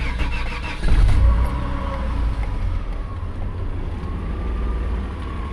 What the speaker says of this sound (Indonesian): Oke, kita dengarkan suara mesinnya ya.